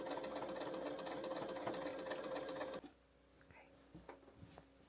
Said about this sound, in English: I'm going to box these corners, and then we will finish up this seam